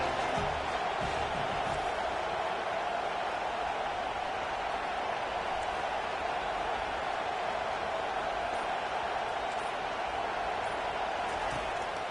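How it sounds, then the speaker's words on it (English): Stadium crowd in an NCAA college football video game roaring behind the defense on a big third down, a steady broad wash of cheering noise held at a constant level the whole time, with no talk. "Big third down as the crowd gets behind this defense."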